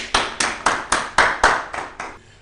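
Applause from an audience at a youth motivation event, delivered as a run of about eight distinct loud claps in a steady rhythm from a small group, fading out toward the end.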